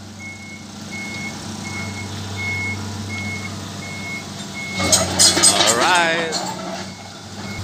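A truck's reversing alarm beeps at a steady rhythm during backhoe loading, medium-distance and repeated against engine rumble; someone speaks briefly as clanking metal noise rises near the end.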